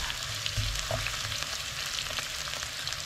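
Onions sautéing in hot oil in a pan for Filipino biryani, a dense, steady sizzle close by with faint clicks of stirring, no talk.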